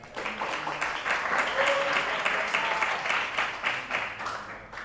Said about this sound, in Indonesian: Tepuk tangan untuk temennya.